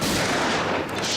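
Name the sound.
gunshot in a war drama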